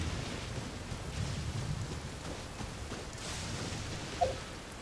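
Thunderstorm ambience in the Genshin Impact video game, steady rain hiss and low rolling thunder, then a brief sharp crackle from a lightning strike near the end, fairly faint overall.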